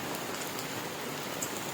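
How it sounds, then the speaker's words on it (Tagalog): Steady rain pours down during a rider's delivery day, a dense, even hiss of drops hitting surfaces close by, unbroken and without any voices. "Yan ang ulan."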